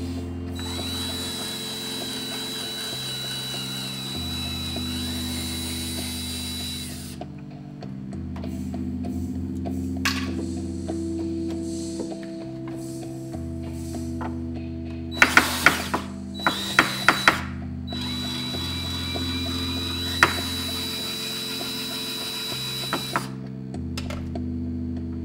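Screws being taken out of a DIY multi-channel audio DAC during a teardown: a steady mechanical hum carries small ratcheting ticks and sharp intermittent clicks, close and moderately loud.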